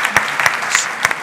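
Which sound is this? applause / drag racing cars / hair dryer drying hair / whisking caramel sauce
applause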